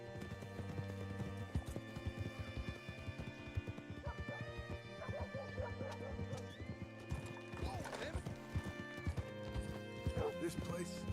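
Steady clip-clop of horse hooves on a hard surface with an occasional whinny, over a low tonal background hum, in a video game.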